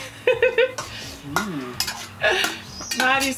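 A spoon scrapes and clinks against a saucepan while hot berry toddy made with brandy is stirred, giving a string of sharp metallic taps and rings with short gaps between them.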